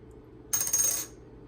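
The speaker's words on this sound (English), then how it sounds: "That's the sound of copper or nickel." A single fake copper-nickel Silver American Eagle coin drops onto a hard surface, giving a short bright clink followed by a quick shimmering ring that fades within half a second.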